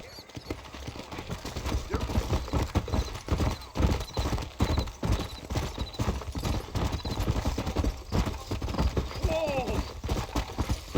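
Steady hoof clip-clops from horses at a walk in the video game Red Dead Redemption, repeating rhythmically through the whole stretch, with a brief whinny near the end and some faint talk.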